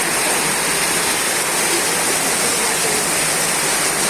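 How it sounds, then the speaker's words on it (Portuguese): Heavy rain pouring in Surubim, Pernambuco, with rainwater rushing down a sloping town street, a dense continuous roar of falling and running water close by. "Olha a água descendo aqui na rua Mandecó."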